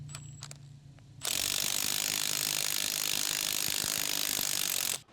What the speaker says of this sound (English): Use a 22mm socket with electric impact wrench to install bushing.